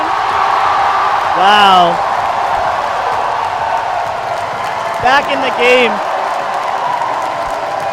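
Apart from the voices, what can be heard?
crowd cheering at climbing World Cup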